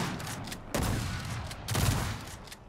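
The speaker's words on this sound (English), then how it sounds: "That was my gun. It's a shock enforcer." Shock enforcer gun firing in the video game Gears of War 4, two heavy crackling electric bursts about a second apart, each with a booming low thump over a loud noisy game background.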